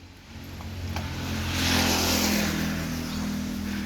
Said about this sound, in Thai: จะลองติดเครื่อง ให้เบิ่งครับ